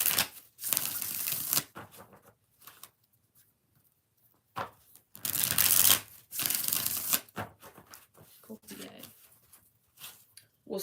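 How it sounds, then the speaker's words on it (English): Tarot cards are shuffled in a few soft, riffling bursts separated by quiet gaps, faint and close, with brief talk in between. "All right, let's do 3 shuffles."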